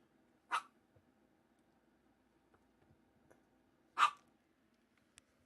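Two dogs give two short, sharp barks several seconds apart, faint and somewhat distant in an otherwise quiet room with a few small clicks.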